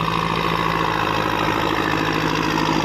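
A turbocharged tractor engine runs steadily at 1800 rpm, giving a continuous, even mechanical drone with a low hum that holds constant throughout, close and with no talking.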